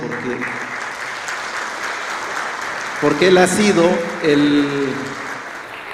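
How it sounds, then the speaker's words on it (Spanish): Audience applause at a Mexican indigenous languages launch event, welcoming a professor from Vícam Pueblo; steady clapping runs throughout while someone speaks over it in the middle. "Un aplauso para Crescenciano"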